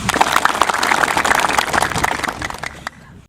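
Crowd applause at an Indonesian military ceremony, dense clapping holding steady at fairly close range, then thinning and fading out toward the end.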